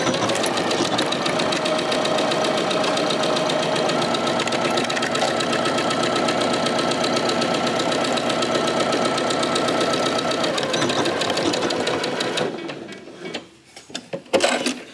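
A sewing machine stitching across the top of a fabric pouch runs loud and close in one continuous rapid whir, slowing and stopping with a few clicks near the end.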